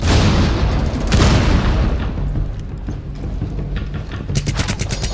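A frag grenade detonates in Rainbow Six Siege with a heavy booming blast at the start, its rumble decaying over a few seconds, followed by a burst of sharper crackling impacts near the end.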